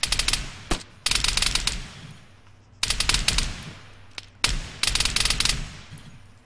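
Bursts of automatic gunfire from the Arma 3 Halo mod, three long rapid-fire volleys separated by short pauses, with a couple of single shots in between, loud and close with no talking.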